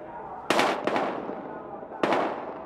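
Gunfire in the video game Battlefield Hardline: three sharp, loud shots, the first two close together and the third after a pause, over a low background rumble.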